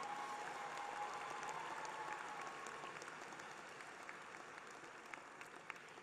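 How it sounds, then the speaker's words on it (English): Sustained applause from a large commencement audience at a university fall graduation ceremony, a dense, steady wash of clapping that fades slightly toward the end. "the last round of applause is for your peers"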